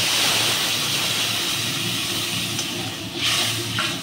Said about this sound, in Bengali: এবার আমি এতে জল দিয়ে নিচ্ছি